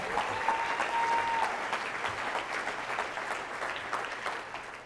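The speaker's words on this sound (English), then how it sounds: "Give them a round of applause as well for coming back" Steady applause from a sizable crowd at a gala, a dense wash of clapping that continues throughout at an even level.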